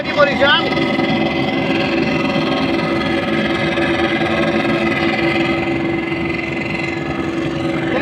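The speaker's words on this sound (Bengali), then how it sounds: "এই একটা লঞ্চ চাটতেছে, যেটা সরাসরি দেখতে পারলাম।" A passenger launch's engine drones steadily on the Buriganga river at Sadarghat, a continuous close rumble that fills the whole clip.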